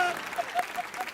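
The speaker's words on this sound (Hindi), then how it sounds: "तालियां" Studio audience applause on a Hindi TV entertainment show, a dense steady clapping wash with a voice over it, brief and moderately loud.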